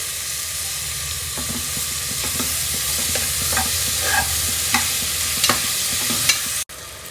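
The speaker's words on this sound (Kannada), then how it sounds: "ಈಗ ಟೊಮೆಟೊನ ಸೇರಿಸ್ಕೊತಾ ಇದ್ದೀನಿ ಈಗ ಟೊಮೆಟೊ ಸಾಫ್ಟ್ ಆಗೋದಕ್ಕೆ ಸ್ವಲ್ಪ ಉಪ್ಪನ್ನು ಸೇರಿಸ್ಕೊತಾ ಇದ್ದೀನಿ" Tomatoes with rock salt fry in a pan, giving a steady, close sizzle broken by repeated scrapes and clicks as a utensil stirs them.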